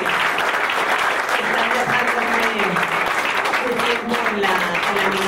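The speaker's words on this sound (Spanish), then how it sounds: "un aplauso para los colectivos y para las personas" Steady applause from an audience at a public forum in Quito fills the room, dense and continuous, with voices murmuring and calling out underneath.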